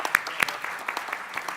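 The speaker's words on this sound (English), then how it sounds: "These characters need a round of applause" A conference audience applauds the mentors of global health fellows, scattered claps rising into a moderate, uneven round of applause in a hall.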